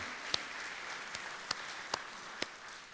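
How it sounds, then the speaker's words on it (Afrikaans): A church audience at a Palm Sunday service gives a round of applause, faint and distant, with a few sharper individual claps standing out over a soft wash of clapping. "Ek dink ons moet vir die Here en vir onsself met mekaar 'n lekker hande klap gee."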